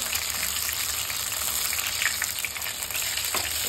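Mussel bonda fritters sizzle steadily in hot oil in a pan, a dense, continuous crackling hiss that stays loud and even throughout, with no voices.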